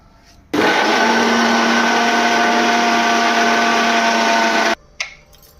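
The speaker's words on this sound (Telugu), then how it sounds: "కొంచెం వాటర్ వేసుకొని మిక్సీ వేసుకుందాం" Mixer grinder blending tomato chutney with water, a loud steady motor whir with a high-pitched whine that starts abruptly, runs for about four seconds and cuts off, followed by a brief clatter.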